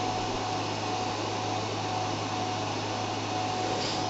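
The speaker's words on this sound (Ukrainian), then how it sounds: "продувка працює, фен нагріває" A heat gun gives a steady, loud rush of blown hot air with a constant electric hum, unchanging throughout and heard alone.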